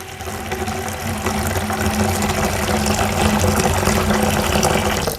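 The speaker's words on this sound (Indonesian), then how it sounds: "air mengalir." Running tap water pours steadily for washing sawo fruit, cucumber and oranges, a loud continuous rush with a faint hum beneath it and no talking.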